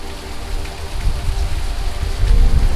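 Hurricane Laura, a Category 4 storm, drives heavy wind and rain in a steady loud rush with rising gusts and low rumbling buffeting, close by, with no talking.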